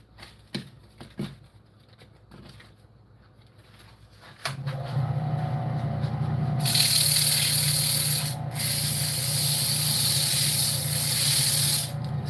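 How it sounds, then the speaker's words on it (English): A wooden bowl turning on a lathe is sanded, beginning with a few scattered knocks and rubs, then settling into a steady, close, continuous abrasive hiss that grows louder and briefly dips before resuming. "I'm just getting ready for the sanding part now."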